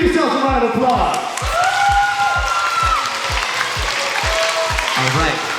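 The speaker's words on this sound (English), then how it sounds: "Give yourselves a round of applause." Audience clapping after a dance performance at a school assembly, loud and close, with a strong rhythmic thumping beat running through it and some voices over the top.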